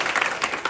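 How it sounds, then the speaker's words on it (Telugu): A burst of audience applause at a Telugu quiz show finals, a brief, dense patter of many hands clapping close by. "బాగా పట్టుకున్నాడు, చప్పట్లు కొట్టొచ్చు."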